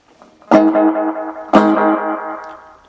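Two guitar notes played through a delay effect with a tone filter set dark, each sharp attack trailing into a train of repeating echoes that fade and darken, the second note overlapping the first note's dying repeats.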